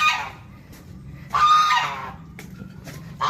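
Turkeys on a farm just after a typhoon give loud, nasal honking calls in a couple of close bursts, with quieter shuffling and faint bird noise between them.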